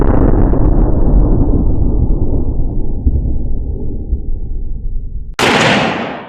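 A traditional black powder muzzleloader rifle fires at a 200-yard range: a long booming report rolls and decays for several seconds, then a second sharp, loud crack bursts in abruptly near the end.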